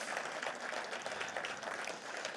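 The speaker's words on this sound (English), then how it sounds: "Give him a round of applause for that." An audience at a small business and economic development summit applauds, a fairly faint, steady patter of many hands clapping that holds evenly throughout with no voices on top.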